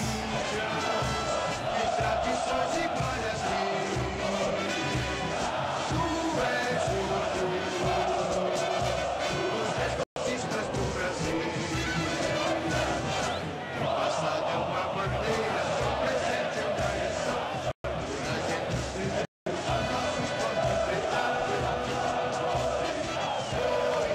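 Corinthians football fans celebrate the 2012 Libertadores title at Pacaembu stadium, with the anthem playing: a dense, loud, continuous roar of the crowd with chanting and cheering that stays at full intensity, broken only by a few very short dropouts.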